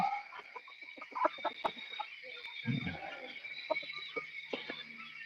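Chickens cluck and murmur in a coop at dusk while being put away for the night, a run of close, soft clucks and brief squawks with occasional rustling and no speech.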